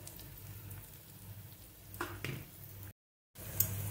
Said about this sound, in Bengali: দেখুন এরকম ভাবে ভাজাটা হয়ে যাচ্ছে